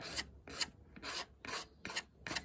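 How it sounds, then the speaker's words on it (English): Razor blade scraping the crusty old fender of a 1979 Yamaha MX100, six close rasping strokes in a steady rhythm with short pauses between, quiet and alone. "the technique of scraping these crusty old fenders, so far, I mean, it's working pretty good"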